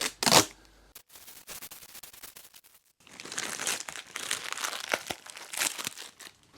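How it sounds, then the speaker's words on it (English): Plastic wrap peeled off a freshly cut slab of yew wood, producing a brief loud crinkle at the start and then a longer stretch of dense crackling and crumpling, close and fairly loud, with no speech. "I'll get this wrap that I put on to slow the dry down when I first cut it"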